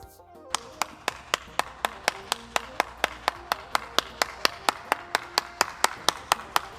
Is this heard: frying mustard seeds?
no